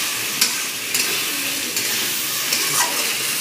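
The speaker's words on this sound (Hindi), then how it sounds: "तो आलू मसाला और टमाटर को अच्छे से फ्राई कर लेते हैं।" Potatoes, masala and tomatoes fry in a pan, giving a steady soft sizzle with a few light stirring scrapes, close and continuous, with no voices.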